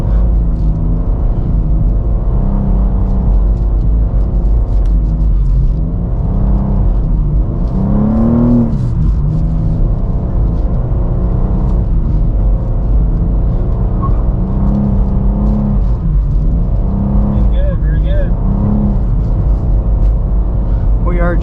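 A 2024 BMW M2 with an 8-speed automatic drifts around a performance driving school track, its engine loud and close as it revs and surges, rising and falling in pitch with gear changes over a constant rumble.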